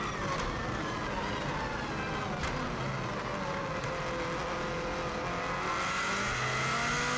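A Subaru race car laps the Isle of Man TT course in 2016, its engine droning steadily with rising and falling pitch as it accelerates through corners, heard from inside the car without talk.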